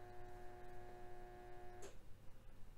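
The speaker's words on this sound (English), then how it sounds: "That was our dishwasher. Or refrigerator. Refrigerator. Yeah. Our appliances make noise." A household refrigerator gives a steady, faint electrical hum in the background that stops abruptly with a soft click near the end, then gives way to quiet room tone.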